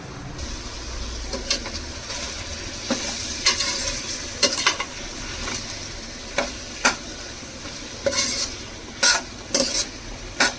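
Tomatoes fry in a pan for a drumstick mutton curry, a continuous close sizzle with scraping stirring strokes and clinks that sharpen toward the end.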